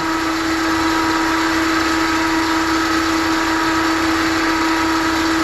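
A bench grinder wheel grinds the bevel of a skew paring chisel held in steady contact, giving a loud, continuous whine with a fixed ringing tone and gritty hiss that holds without pause.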